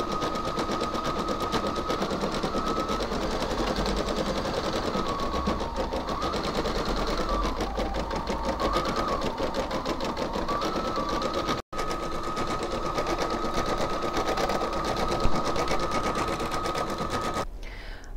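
An embroidery machine stitches a design for a make-up brush holder, a loud, fast, continuous mechanical chatter heard up close for the whole stretch, broken only by one very brief gap near the middle.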